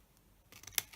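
Scissors cutting into a milk carton give a faint, short snip, a quiet rustle building to one sharp crisp cut at close range.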